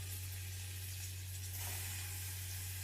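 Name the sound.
onions frying in oil in a pan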